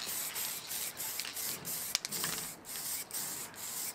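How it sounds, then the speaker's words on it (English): Acrylic spray varnish hissing from an aerosol can onto a furniture leg base, in a series of short, steady bursts separated by brief pauses, close and fairly quiet. "I could also spray the leg base too"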